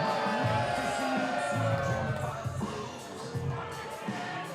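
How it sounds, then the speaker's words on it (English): Wrestling crowd at a live event applauds and cheers, a loud continuous roar of clapping and voices with music playing underneath and a voice talking over it. "Give Uncle Sid a round of applause."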